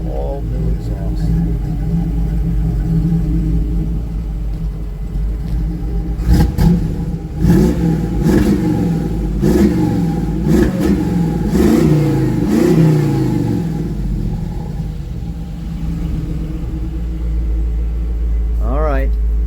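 A 1982 Jeep CJ7 engine idles with a deep rumble through a new exhaust, then revs up sharply several times in quick bursts before settling back to a low idle.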